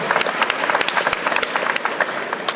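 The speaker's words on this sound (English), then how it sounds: "Let's have a round of applause for the gentleman there." Audience applause at a comic convention, loud and close, with individual sharp claps standing out from the crowd's clapping in an uneven burst that continues throughout.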